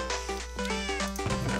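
A cat in the game Minecraft meows several times in quick succession, clear tonal mews rising and falling close up, with no talking over them.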